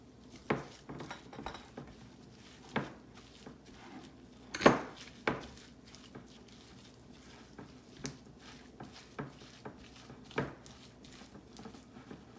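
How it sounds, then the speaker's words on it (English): A spatula stirs spinach dip ingredients together in a bowl, giving close, irregular soft squelches and scrapes with a few sharper knocks against the bowl's side, steady and unhurried with no voices. "I'm just going to use this spatula and just mix it all together."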